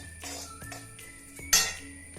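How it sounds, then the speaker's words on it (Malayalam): Ingredients for an eggplant (brinjal) curry roast in a pan while being stirred. Light scrapes and clinks of a spoon against the metal pan come in short bursts, with one sharper knock midway, close and fairly quiet. "ഇതൊന്ന് വറുത്തെടുക്കാം"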